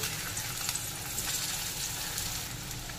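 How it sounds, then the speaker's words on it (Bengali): Long-cut potato strips fry in hot oil left from frying foli fish, giving a soft, continuous sizzle and crackle that stays fairly quiet and even throughout. "এবার ওই তেলেই লম্বা টুকরো করে কেটে রাখা আলুগুলোকে দিয়ে দেব।"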